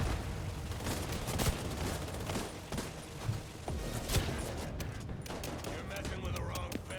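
Rapid bursts of video game gunfire crackle through the Broken Rain Incursion, sharp repeated shots and volleys layered over a busy backdrop, with players talking over the action.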